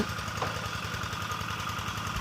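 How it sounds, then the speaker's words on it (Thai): A farm tractor engine drives a pump drawing water from a canal to irrigate a corn field, chugging in a steady, rapid, close-up rhythm with no pauses. "แล้วเขาก็จะดูดใช้เครื่องรถไถ รถไถนานะคะดูดน้ำขึ้นมา"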